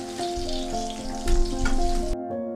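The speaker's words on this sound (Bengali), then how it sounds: "গ্যাসের ফ্লেমটা লো রেখে কিছুটা পকোড়া ভেজে নিয়েছি" Chicken pakoras fry in oil over a low gas flame with a steady, dense sizzle and bubbling, loud and close, joined by a faint hum. It swells briefly midway, then cuts off abruptly near the end.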